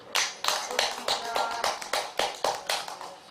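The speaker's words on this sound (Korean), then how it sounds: "우리 보리와 보살님께 박수 한번 크게 쳐주세요" A small group at a Buddhist memorial service at a Korean temple claps in a sparse, rhythmic burst, about a dozen distinct, fairly close hand claps in quick succession.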